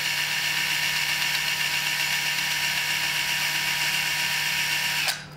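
A Viper-X string tool spinning at around 300 to 400 RPM, a loud, steady, close whirring drone that cuts off abruptly at the end.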